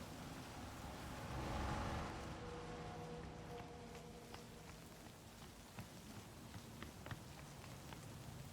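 Soft, continuous rain patter in the video game Cyberpunk 2077, with scattered droplet ticks, a low rumbling swell early on, fairly faint and without voices.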